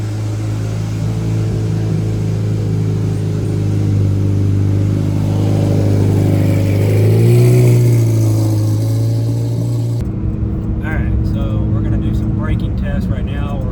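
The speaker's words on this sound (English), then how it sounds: "Right now we're at up to 70 miles an hour." A Corvette C8 Z06 cruises at highway speed up to about 70 mph, its engine drone and road roar steady and loud inside the cabin, with a slight swell midway before the tone drops and changes near the end.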